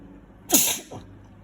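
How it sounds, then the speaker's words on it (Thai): A man sneezes once, a single sharp burst followed by a brief breathy tail, close and moderately loud against an otherwise quiet room. "จามนะครับ"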